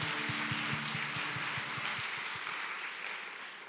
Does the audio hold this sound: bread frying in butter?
no